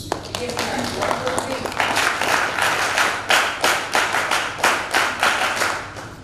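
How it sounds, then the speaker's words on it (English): Applause from a panel discussion audience at an industrial training event, with dense, steady clapping throughout and a few louder individual claps standing out near the end. "Kindly applause."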